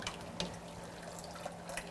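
Water drains off a glass canning jar as it is lifted with a jar lifter from a water bath canner, giving a faint continuous trickle and splash with a few soft drips and clinks.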